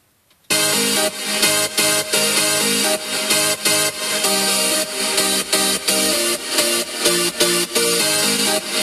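Sliced, chopped synth melody for a remix, shaped with a transient designer so each attack pushes forward; a steady rhythmic pattern of punchy stabs plays alone after a brief silent start.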